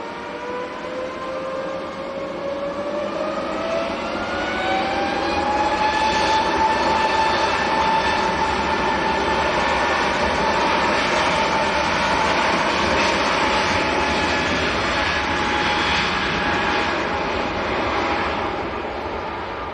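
An Airbus A320neo jet departs Manchester Airport, its engines producing a sustained loud roar with a rising whine that climbs in pitch and holds steady for about twenty seconds.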